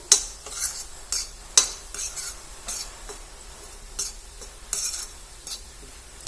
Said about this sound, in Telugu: మనం తీసుకున్న కారం ఉప్పు చాట్ మసాలా ఇవైతే వేసేసుకొని మంచిగా కలిపేసుకోవాలి